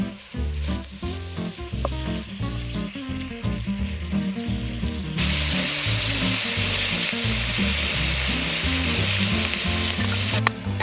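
Sausages sizzle and fry in olive oil in a pan over a strong open wood fire, a loud, steady crackling hiss that swells sharply about halfway through and holds.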